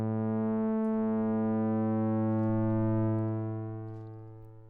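A sustained synthesizer pad tone with a rich stack of steady harmonics as a second oscillator is brought in, holding loud and even before fading out near the end.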